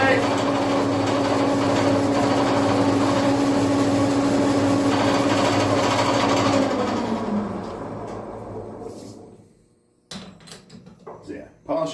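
A sprint car piston is polished with Scotch-Brite on a polishing belt, a loud steady whirring grind that runs for about seven seconds, then winds down and stops, followed by brief handling noises and clunks.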